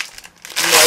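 Plastic packaging from a beauty product order crinkling and rustling in hand, a quiet rustle that swells into a louder, crisp crackle near the end.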